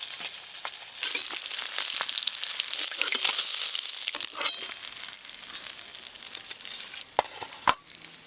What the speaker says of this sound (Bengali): এই মাছগুলো ভাজা হয়ে গেল, তুলে নেবো এবার।